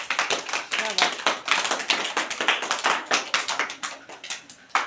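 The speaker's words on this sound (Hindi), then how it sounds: "ताली बजाओ इसके लिए" A classroom of students clapping their hands together in a quick, uneven burst of many overlapping claps, steady and fairly loud for several seconds, with faint voices mixed in.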